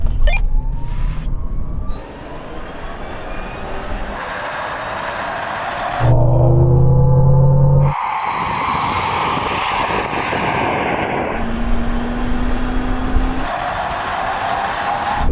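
A Tesla Cybertruck and a Hummer EV drag racing from a 30 mph rolling start: steady loud wind and road rush with rising electric motor whine, heard close from inside a moving vehicle, with no talk.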